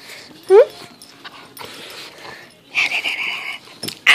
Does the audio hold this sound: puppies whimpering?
yes